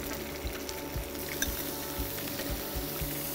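Fish fries in butter in a pan with a steady, close sizzle, broken by soft low thumps and stirring movements, with no talking over it.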